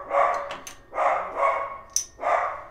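A dog barks repeatedly nearby, several loud, rough barks in a steady rhythm with brief squeaky sounds between them.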